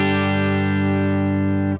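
A Boss Katana guitar amp on its clean channel with effects sounds one rich sustained chord that rings evenly for nearly two seconds and then cuts off abruptly, with no talking.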